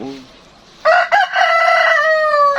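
A loud, close rooster crow with a long drawn-out final note, preceded by a brief cluck-like sound.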